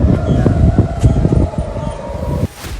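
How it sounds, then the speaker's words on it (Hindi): An air raid siren wails steadily over a dense, rumbling background of people running, during a missile attack in Israel, then cuts off abruptly near the end. "सायरन्स हो रही हैं।"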